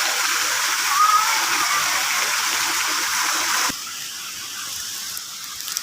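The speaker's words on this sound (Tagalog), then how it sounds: "Ayun ang falls na maliit." A small mountain waterfall rushes in a steady, broad hiss close by, dropping slightly in level partway through, with faint voices underneath.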